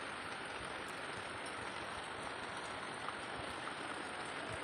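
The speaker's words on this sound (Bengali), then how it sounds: "তারপর দুপুর থেকে বৃষ্টি।" Rain falling over farm fields with coriander and gourd plots nearby, a steady, even hiss of drops that holds at a constant level throughout, moderately faint and with no talking.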